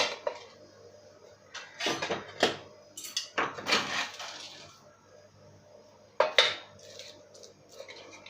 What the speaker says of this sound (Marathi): ह्या पुरण यंत्रामध्ये ही शिजलेली डाळ घालून मी फिरवणार आहे असं गोल